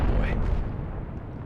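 A battleship salvo in the naval game Atlantic Fleet, with big guns firing at a German battleship: a heavy, deep boom that rolls off into a fading low rumble, loud and close.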